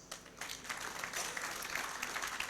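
Faint, distant audience applause at a conference opening ceremony, a soft continuous patter of many hands clapping that stays even throughout.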